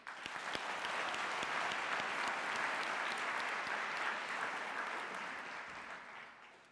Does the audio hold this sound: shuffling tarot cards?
no